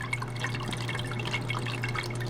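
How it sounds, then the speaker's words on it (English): Water swirling in a vortex inside a homemade blue bowl gold concentrator fed through a control valve, a steady close wash of dripping and splashing with a constant low hum beneath it. "I can see how the water's spinning in a circle here."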